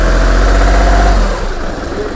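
A Volkswagen Polo TDI diesel engine idles up close with a steady low rumble, easing to a slightly lower level partway through. No voices are heard.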